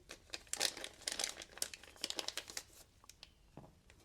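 A small paper envelope that came with a Tuya Vortex folding knife is handled and opened, giving quiet crinkling and rustling in uneven bursts, close by and soft.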